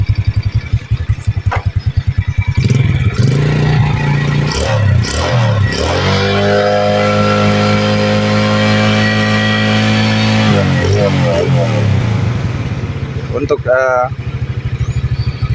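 A motorcycle engine with an oil leak at the crankcase idles and revs steadily with a throaty hum, someone speaking over it at times.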